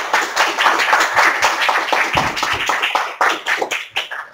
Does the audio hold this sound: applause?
yes